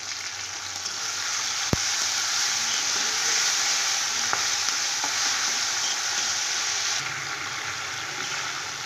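Cauliflower curry sizzles steadily in a hot pan just after a little water goes in, a loud continuous hiss with a couple of sharp clicks, no voices.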